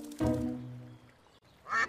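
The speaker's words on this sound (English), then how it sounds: "Here comes a duck!" A duck quacks loudly and nearby, with a short burst of calls at the start and another brief quack at the end, alone without any talk.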